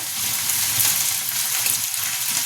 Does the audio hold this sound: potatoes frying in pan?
yes